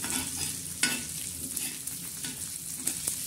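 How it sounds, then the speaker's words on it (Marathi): Coriander seeds and garlic dry-roasting in a pan for a black masala, giving a steady close frying hiss with repeated stirring scrapes and clinks throughout. "आणि धने आणि लसूण हा मस्तपैकी असा भाजून घेणार आहोत"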